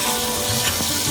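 Ash gourd pieces hit a hot pan and give off a steady, close hiss of sizzling that holds for about a second, with no talking over it.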